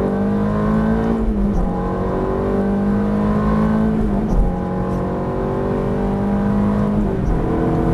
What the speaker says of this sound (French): On a les roues droites, on accélère, on va se placer sur la gauche de la piste.